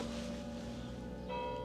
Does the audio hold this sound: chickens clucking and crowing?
no